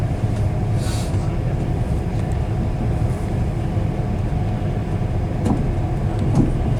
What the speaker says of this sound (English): So here we are on one of ScotRail's new Hitachi 385 AMUs